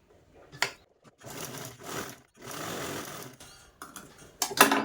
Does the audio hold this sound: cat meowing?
no